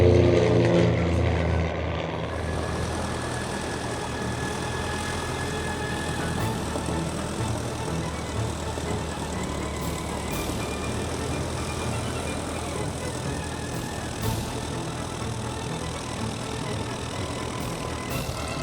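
Two propeller planes throttle up for takeoff side by side, a steady droning engine roar with low rumble holding fairly loud and constant throughout, the start slightly louder before settling into an even hum.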